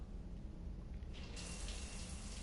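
Shower water runs in Mass Effect 3, a soft steady stream that swells brighter and hisses more strongly partway through, heard close and fairly quiet, with no voices.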